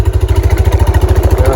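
A Kawasaki Prairie 300 ATV engine idles up close, loud and steady, with an even low pulsing rhythm and no popping.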